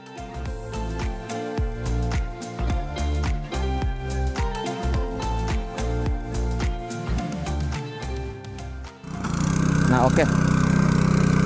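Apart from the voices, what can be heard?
FTL 820 cultivator engine running with dicing blade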